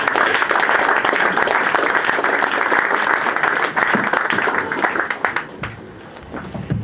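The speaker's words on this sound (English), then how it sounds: "So give yourselves a round of applause." Concert crowd at the Boileroom in Guildford applauding during a gig, a dense roar of clapping hands that holds steady, then tapers off into scattered claps near the end.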